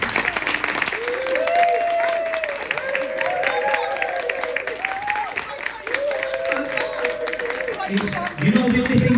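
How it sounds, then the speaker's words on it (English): Audience applause and crowd noise fill a hypnotist comedy show at the Grand Pier in Weston, with talk and tonal voices running over the clapping throughout. "Give me a big round of applause."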